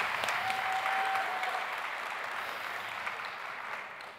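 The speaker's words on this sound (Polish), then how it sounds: "Brawa dla Pauliny." Sustained applause from an audience at a gala, dense and even, slowly tapering off toward the end.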